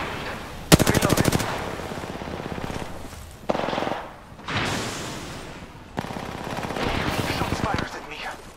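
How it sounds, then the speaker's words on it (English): Video game gunfire: loud bursts of rapid automatic fire come in several stretches, close and sharp, with a continuous noisy battle backdrop and talk between the volleys. "Shots fired at me."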